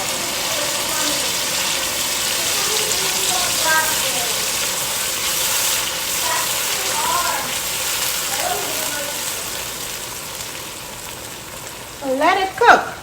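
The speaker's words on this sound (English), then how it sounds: "And now I'm just going to add the blended tomatoes," Blended tomatoes, onions and garlic go into a pot of fried tomato for palava sauce, giving a steady broad sizzle and bubbling throughout, with a brief clatter near the end.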